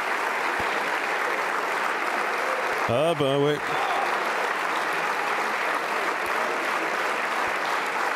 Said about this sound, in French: Pourquoi tout le monde se met debout pour l'applaudir?